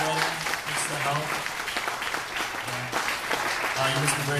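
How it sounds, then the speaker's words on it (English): Wedding guests clapping for the hosts, a dense burst of applause that carries loudly through the whole moment, with voices and cheers mixed in among the crowd. "Can we give them a round of applause?"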